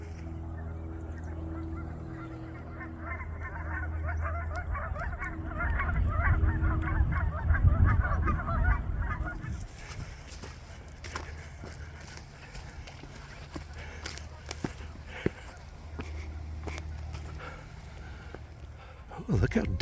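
Geese honk repeatedly beside the Rio Grande in a riverside bosque, a steady cackling chorus at middle distance that fades after several seconds, followed by footsteps and faint outdoor sounds, with people talking at times.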